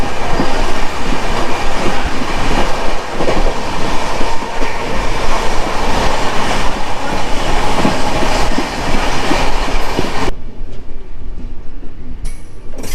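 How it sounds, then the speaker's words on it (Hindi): The Coromandel Express runs at about 130 km/h through a station, a loud continuous roar of wheels and rushing air with steady rhythmic clatter, close by with no talk over it. "अलग ही लेवल का स्पीड है भाई इस ट्रेन का। 131 पे स्टेशन क्रॉस कर रहा है।"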